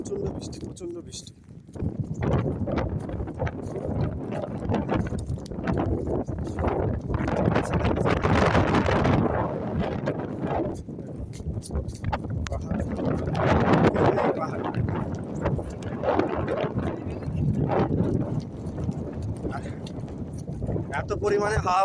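Strong wind buffets the microphone on a large, open hilltop during heavy rain, a loud continuous roar that surges and eases throughout, with speech faintly mixed in.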